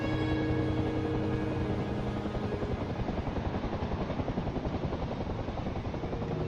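A jet engine spins up in the DCS World flight simulator, a dense continuous turbine whine and roar with steady tonal hum, loud and alone without voices.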